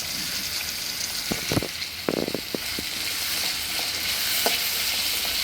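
Corn rice mixture stirred in a pan over a steady background sizzle, with a few distinct scraping spoon strokes in the middle, alone with no talking.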